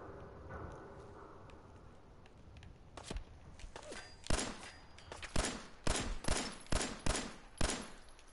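Pistol gunfire in Fallout 4 at the Corvega assembly plant: after a quiet start, a string of sharp, close shots cracks out at an uneven pace before settling into a quicker run of six or seven.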